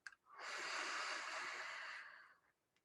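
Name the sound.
breathing out during meditation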